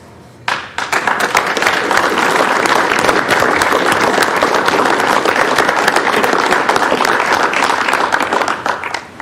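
Loud, dense applause from the audience at a county commissioners' business meeting starts abruptly and holds steady for about nine seconds, many hands clapping close to the microphone.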